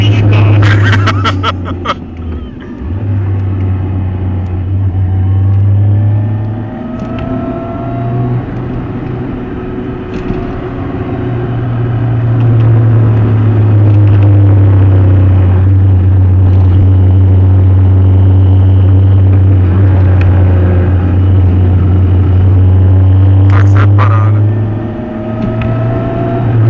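A BMW 1000 motorcycle cruises on a motorway, its engine a loud, steady drone with shifting pitch, along with wind rush and occasional louder surges.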